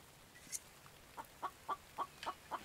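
A chicken, fetched indoors to a warm house, gives a string of short clucks, about six evenly spaced soft calls with a faint higher squawk before them, fairly quiet and alone.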